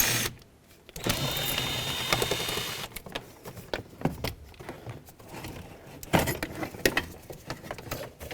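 A small 7mm socket wrench works a bolt loose on a 1997-2003 Ford F-150 during shifter tube bushing repair, with irregular close ratcheting clicks and metallic clinks separated by brief pauses.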